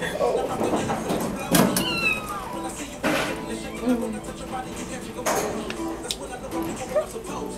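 A cat meows repeatedly while playing in a sink, its rising and falling cries mixed with clattering and people laughing and talking nearby.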